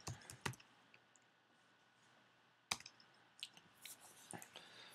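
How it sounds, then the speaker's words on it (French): A web address is typed on a computer keyboard in Mozilla Firefox on Windows: scattered quiet key clicks in short bursts with pauses between them, close by and with no speech. "Donc je tape l'URL."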